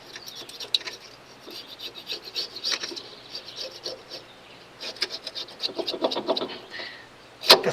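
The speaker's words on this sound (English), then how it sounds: "got a old scraper" An old scraper works an old gasket off a part of a barn-find truck, giving repeated rough scraping strokes in irregular bursts, close and moderately loud, with a sharper clack at the end.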